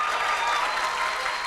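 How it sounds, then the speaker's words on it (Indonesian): An audience claps in applause at a stand-up comedy show, a brief, dense burst of clapping filling the moment with no speech over it. "Nah, tepuk tangan"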